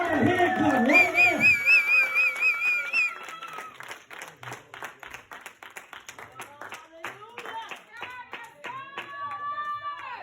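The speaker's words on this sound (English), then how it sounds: "Give God a hand clap right now." A church congregation at a Youth Sunday service claps hands in a rhythmic, steady beat while children's voices and shouts ring out, with a sung or called-out voice at the start.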